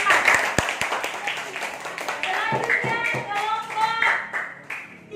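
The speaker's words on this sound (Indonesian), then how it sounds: "kalau begitu kita beri tepuk tangan untuk kelompok 4." A classroom claps for group 4, scattered close hand claps over a few seconds while a voice speaks through them.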